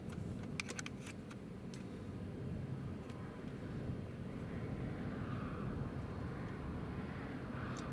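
A British Airways airliner taking off from Newcastle International Airport, a steady broadband engine roar heard from a distance that holds level throughout, with a few faint clicks early on.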